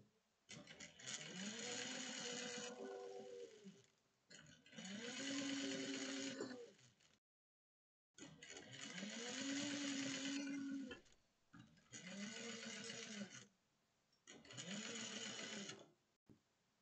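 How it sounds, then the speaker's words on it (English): A sewing machine back stitches a bag in five bursts of rapid mechanical whirring, each a second or two long, with pitch swells as the speed changes and short pauses between runs, heard close up with no talking. "make sure you back stitch"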